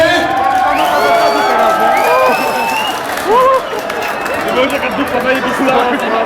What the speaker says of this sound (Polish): Gorące brawa dla pani Danuty!